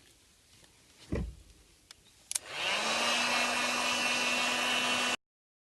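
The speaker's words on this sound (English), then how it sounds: "so here we go with the heat gun." A heat gun blasting hot air onto plastic trim moulding inside a Subaru Impreza MY99, switching on after a few soft knocks and clicks into a loud, steady whooshing roar with a constant motor hum, then cutting off abruptly.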